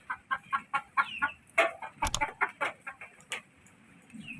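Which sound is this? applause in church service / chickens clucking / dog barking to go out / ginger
chickens clucking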